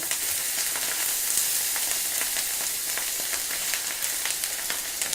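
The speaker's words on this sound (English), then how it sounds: "Now we're gonna add our sisig there." Sisig sizzling on a hot sizzling plate with the heat turned off, served restaurant-style at an Asian festival in Columbus, Ohio; a continuous bright hiss and crackle of frying, fairly close and steady, with no talking.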